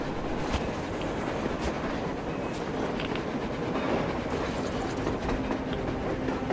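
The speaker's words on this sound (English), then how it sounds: "A train! A damn train on the surface!" A steady, continuous rumble of a train rolling past in the video game Metro Exodus, with a faint clickety-clack and occasional clanks under the dense noise.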